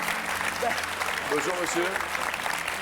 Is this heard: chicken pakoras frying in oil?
no